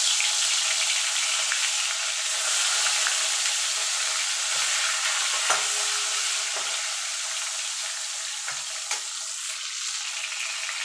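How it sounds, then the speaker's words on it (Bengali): Pieces of rohu fish fry in hot oil, giving a loud, continuous sizzle that crackles and hisses throughout. A few soft knocks of a utensil sound in the pan, and no one speaks. "এইভাবে বাকি দুটো মাছও আমি ভেজে নেব"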